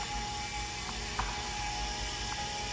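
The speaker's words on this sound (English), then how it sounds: "I'm at about 2400 RPMs. Not too fast, I don't want to rip my disc up." Lapidary polishing machine spinning a soft diamond-infused disc at about 2400 RPM while working fire agate, a steady low whirring hum with faint faint scraping and a few soft clicks, close and continuous.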